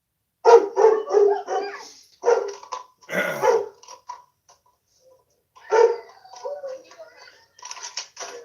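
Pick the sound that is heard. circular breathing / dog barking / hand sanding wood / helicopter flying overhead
dog barking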